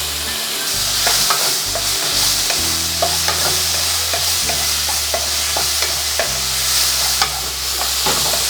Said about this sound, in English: I want a little bit of char on the pineapple. A little bit of caramelization.